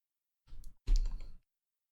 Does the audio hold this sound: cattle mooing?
no